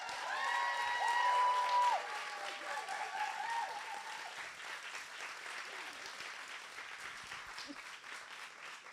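Audience applause for volunteer mentors at a spring showcase, sustained clapping from a crowd that is strongest early then fades gradually, with a brief tone or voice over the start.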